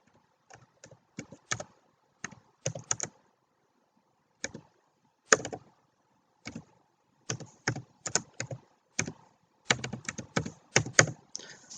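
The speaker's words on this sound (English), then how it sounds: "we're going to go ahead and type in Hudson's" Computer keyboard typing in bursts of quick clicks with short pauses between words, close and clear with no talking over it.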